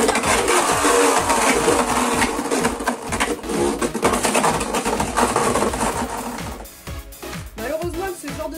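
Beyblade spinning tops Prominence Phoenix and Dangerous Belial (B-191 Overdrive SP Starter Set) whirring and clattering loudly in a stadium, a dense continuous grinding buzz that thins out near the end.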